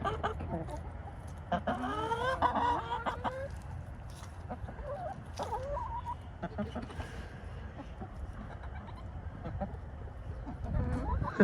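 Hens clucking and chattering in short bursts nearby on a farm, with a person talking over the birds and some outdoor rustling.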